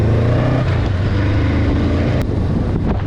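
A 2022 Honda Rebel 500, a 500cc motorcycle, accelerates loudly and close up, its engine note droning steadily through the whole stretch with wind rush over it and no talking.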